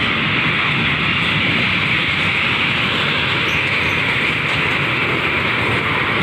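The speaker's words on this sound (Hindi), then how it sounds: "ट्रेन जा रही है बहुत बड़ी" A big train rolls past at steady speed, a continuous loud rumble and rattle of wheels and carriages filling the whole stretch without pause.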